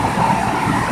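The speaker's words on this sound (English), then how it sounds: "Right now, I'm on Metro Rail" Metro Rail train car interior with a steady low rumble and continuous rolling noise throughout, no voices, moderately loud and close.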